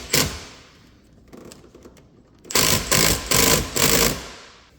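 A bolt on a racing harness mount in a 6th-gen Camaro ZL1 1LE is driven tight with a power tool: one short whir early, then four loud, rapid buzzing bursts close by, with no talking.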